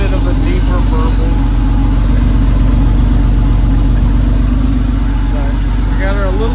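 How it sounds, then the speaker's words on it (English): A 1992 Porsche 964 Carrera RS idles warm with a loud, deep, steady burble and throbbing low rumble throughout, while faint voices come through in the background. "It's gonna make all kinds of 964, 993 noises. It's got a little bit of a deeper burble."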